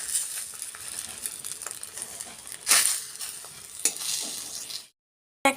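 An egg omelette fries in a pan with a steady close sizzle and occasional scraping and tapping of a spatula, louder bursts midway, ending in abrupt silence.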